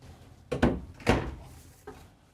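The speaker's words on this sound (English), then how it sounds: "Nice deep, soft close drawers." Soft-close drawers inside a Newmar Dutch Star 4369 motorhome, heard as two close, muted thunks about half a second apart as a drawer slides shut, followed by a fainter third knock.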